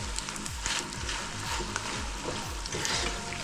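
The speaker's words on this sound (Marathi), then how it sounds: "गॅसवरच तळते कारण तेल भरपूर गरम झाले." Cheeselings deep-frying in very hot oil on a gas stove, a loud, dense, continuous sizzle with crackling pops, close up and steady throughout, no voices.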